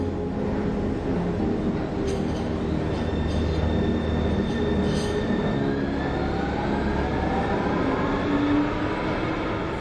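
Thessaloniki metro train runs with a continuous loud rumble of wheels on rails, faint squealing tones drifting in and out over the steady roar.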